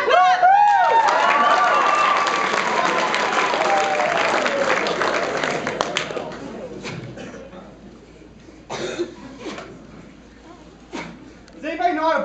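An audience at an improv comedy show breaks into loud clapping and cheering that swells at the start and slowly fades. A few scattered bursts of applause come later, along with some talk.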